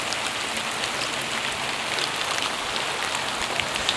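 Steady rain patters on a gutter screen along a mossy roof, a dense, even hiss of drops close by with no voices over it.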